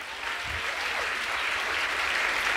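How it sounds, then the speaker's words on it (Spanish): Church congregation applauding during a Spanish-language sermon, a steady wash of clapping that fills the whole stretch without pause, moderately loud and close. "Si le vas a dar el aplauso."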